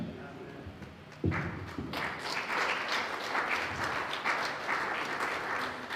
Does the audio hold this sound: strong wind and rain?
no